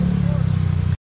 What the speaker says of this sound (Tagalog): Ganda rin ng motor, oh.